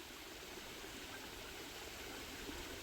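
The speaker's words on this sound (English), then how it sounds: "there's this creek" Steady broadband rush of a creek flowing beside a hiking trail in Arkansas, continuous and even throughout with no voices.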